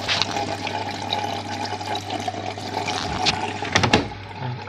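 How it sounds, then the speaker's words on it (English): A Beko WM/7335 washing machine running in test mode fills with water, a continuous rushing, hissing flow with a low steady hum underneath and a few brief clunks near the end. "The middle will start filling up with water."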